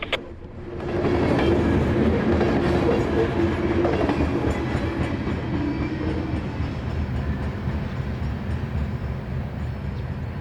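Norfolk Southern freight train passing on a CSX line, a loud steady rumble of rolling cars with wheel clatter sustained throughout, no voices.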